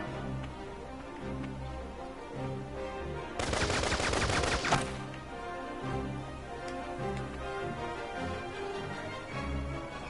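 Rapid gunfire from the video game Valkyria Revolution, a dense burst of shots lasting about a second and a half over a steady bed of game music.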